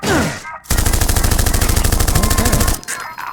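Sustained burst of submachine gun fire in the Repella Fella video game, a loud rapid rattle of about two seconds, with brief game sounds before and after.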